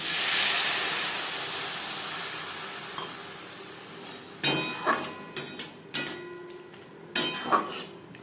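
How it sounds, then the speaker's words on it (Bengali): Water poured into a pan of fried onion and tomato sets off a loud steamy hiss that slowly dies away, followed by several sharp metallic clinks and knocks of utensils against the pan. "পেঁয়াজ টমেটো চার পাঁচ মিনিট ভেজে নেওয়ার পর দিয়ে দেবো জল"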